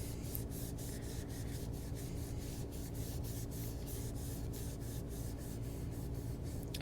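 Close, steady rubbing swish of a cloth wiping stain off a wooden stock for a Heritage Mare's Leg, with rhythmic strokes running continuously at low volume.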